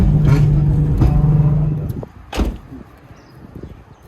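A drift car's engine revs hard into a turn, a loud close drone that cuts off after about two seconds, followed by a brief burst and quieter rumbling.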